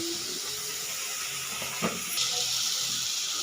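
Onion frying in oil in a pan on an induction cooker, a steady close sizzle and hiss throughout, swelling slightly near the end.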